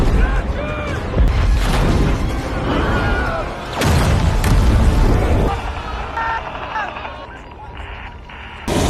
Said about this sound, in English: Chris ordered the tank troops to shoot